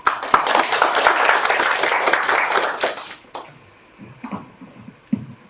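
Warm applause from an audience at a neighbourhood residents' general assembly, dense clapping for about three seconds before it thins out, leaving scattered faint sounds.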